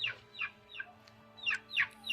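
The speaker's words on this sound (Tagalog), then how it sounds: "Marami palang manok dito tay." Several hens cluck in short, bright bursts, a few calls spaced unevenly over a low steady hum, fairly close and moderately quiet.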